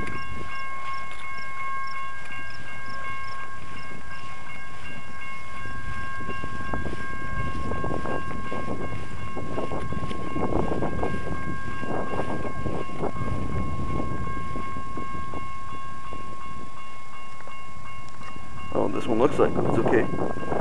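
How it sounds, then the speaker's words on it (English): Train at a Waukesha railroad crossing, a steady crossing-bell tone ringing over rumbling rail noise and clanking as the train moves and halts, with voices talking in the background. "this train made a sudden stop"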